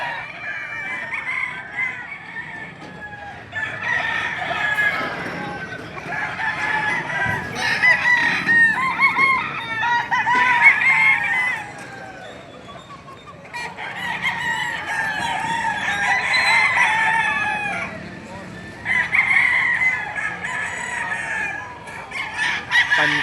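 Roosters at a chicken market in Padre Garcia, Batangas crow repeatedly in overlapping calls amid steady clucking, fairly close, with several crows rising and fading across the stretch.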